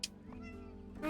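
A boat cat in the cozy video game Mineko's Night Market gives a short, soft meow, quiet and close, with a faint musical backdrop.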